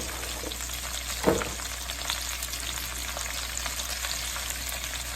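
Onions for braised oxtails sizzle quietly and steadily in a pan, broken once early on by a single short scrape of stirring.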